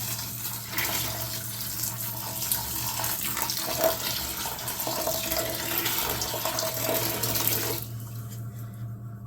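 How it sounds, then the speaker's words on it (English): A litre of just-boiled water poured onto defrosted blackberries for an apple and blackberry cider, a steady splashing rush for about eight seconds before stopping. "just going to tip in a litre of just boiled water"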